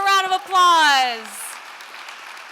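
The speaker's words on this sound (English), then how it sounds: "Let's give everyone one more round of applause." Audience applause for finalist teams at a charity challenge finals event, a brief swell of clapping that follows a spoken voice and fades over a couple of seconds.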